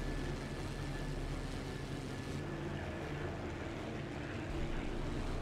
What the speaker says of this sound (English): The BF-109s began their approach.